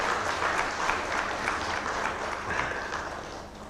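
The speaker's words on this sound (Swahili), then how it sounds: "mimi namtambua, mumpigie makofi" Applause from an audience at a meeting held at the Golden Tulip in honour of Maalim Seif, a full, steady clapping that holds evenly before easing slightly at the end, with no speech over it.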